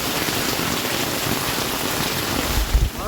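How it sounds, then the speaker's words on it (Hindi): Heavy rain pours down steadily in a dense, continuous hiss, with a brief low thump near the end. "हाँ बहुत तेज बारिश है, बहुत तेज।"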